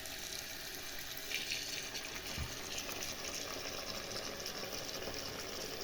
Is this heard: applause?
no